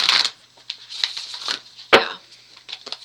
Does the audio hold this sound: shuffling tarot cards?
yes